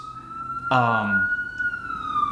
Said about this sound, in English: There's a ambulance over there.